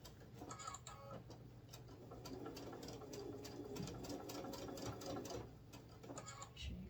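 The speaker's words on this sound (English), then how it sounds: "Back stitch when you start your top stitch" A sewing machine top stitches a fabric bowl cozy, running in a steady, rapid stitching rhythm that sounds fairly soft and close, with no voices.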